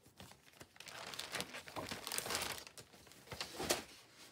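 Secondhand paper being handled for junk-journal making crinkles and rustles steadily up close for several seconds, with quick crumpling bursts and no talking.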